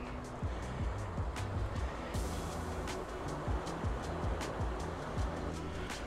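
Gentle sea waves wash steadily along the rocky coast of Yehliu Geopark in Taiwan, a continuous soft surf hiss with faint passing traffic underneath and no talk.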